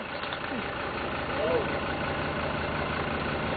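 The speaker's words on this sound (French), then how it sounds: "Voilà le tracteur de chez Legrand" A tractor engine idles with a steady low rumble throughout, with a voice briefly audible over it.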